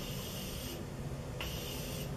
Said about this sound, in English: I'm gonna take another round of setting spray.